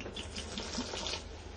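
Rum being poured into a chocolate rum ball mixture with coconut and vanilla in a kitchen bowl, a close, steady liquid trickle lasting under two seconds with no talking.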